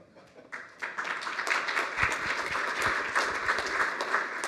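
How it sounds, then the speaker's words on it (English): A conference audience breaks into applause, a few scattered claps at first swelling into a full, steady round that carries on to the end. "That's a bit early for the applause."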